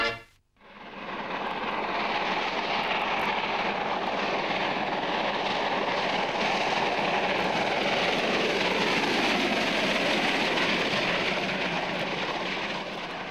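A DR class 03 steam locomotive hauls its train past at Block Rohlsdorf, a loud, steady roar of engine and rolling wheels that swells in within the first second and holds full and close for the rest of the clip.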